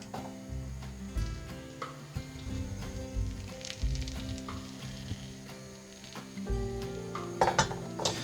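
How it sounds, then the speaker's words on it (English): Egg white omelette frying in a pan over high heat, a steady close sizzle with clinks and scrapes of a utensil against the pan throughout. "I just leave it on the pan again, and I'll basically repeat this process on the high heat"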